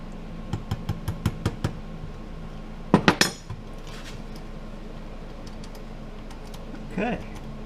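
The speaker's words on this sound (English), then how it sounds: "I'm just tapping the roll pin back in" A roll pin tapped into the trigger valve of a Harbor Freight Pierce framing nailer, a quick run of small metallic taps, then a louder cluster of strikes, with a brief voice later.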